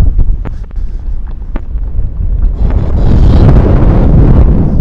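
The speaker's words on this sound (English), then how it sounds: "the wind's picking up now. If you can hear it on the mics, apologies, but it's really windy today" Strong wind on a golf course buffeting the microphones, a loud, rumbling roar with gusty bumps that swells and grows denser toward the end.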